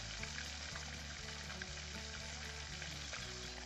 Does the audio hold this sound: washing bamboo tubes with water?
no